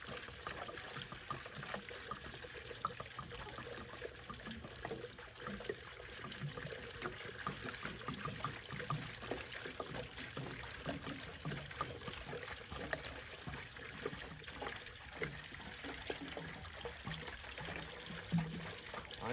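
Liquid siphoned through a funnel into a container at a camp, a steady continuous trickling and gurgling rush that runs unbroken for the whole stretch at moderate level.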